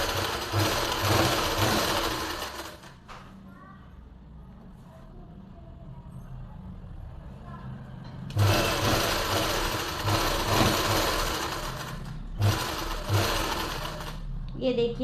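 A sewing machine stitches a pleated suit in loud close bursts, a first run of about three seconds, a quieter pause with a voice speaking, then longer runs near the end.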